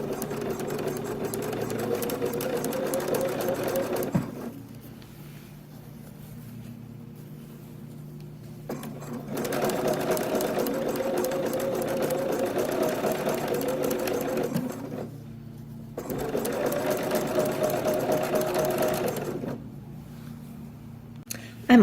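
A sewing machine stitches a shirt side seam in three long, steady whirring runs, separated by short pauses as the fabric is repositioned, heard close and alone.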